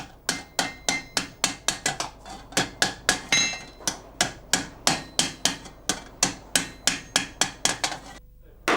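A hammer closes an iron wire ring into the curved rim of a copper cauldron, striking in rapid, steady metallic blows, dozens of sharp close hits in an even rhythm with no talking.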